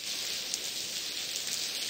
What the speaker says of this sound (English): Man, I hate the rain.